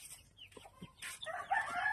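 Chickens with flu cluck and squawk close by, short calls building into a louder burst of clucking.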